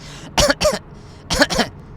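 Two pairs of harsh, close coughs, each a quick double burst, separated by a brief pause.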